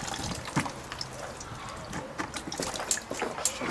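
Last water trickling and dribbling out of the water pump drain bolt on a Kawasaki KDX200SR motorcycle, faint uneven splashes with a few small metallic clicks from the workshop.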